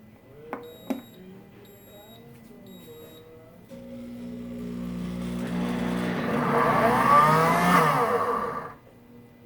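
A Pampered Chef blender whirs up from a quiet start, building to a loud, steady motor roar with a rising whine, blending strawberries and sugar for low-sugar jam, after a few soft beeps and clicks.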